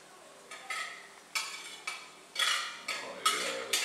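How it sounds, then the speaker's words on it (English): Pre-cooked rice for fried rice tipped into a pan and stirred, a series of scraping, rustling strokes against the metal, each followed by a soft sizzle, close and moderately loud. "So we can go ahead and put the rice in here."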